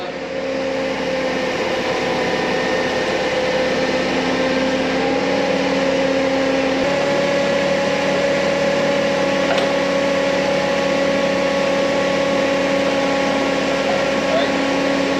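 A Harbor Freight Predator V-twin engine fitted to an old riding mower runs steadily, a continuous droning hum with a low, even tone, while someone talks over it.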